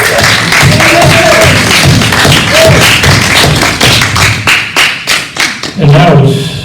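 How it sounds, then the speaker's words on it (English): An audience at a Sunday service gives a musician another round of applause: dense, loud clapping with a few thuds, breaking into scattered individual claps before a final burst. "Let's give him another round of applause."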